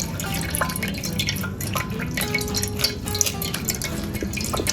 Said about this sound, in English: You're getting all the elderberry juice out.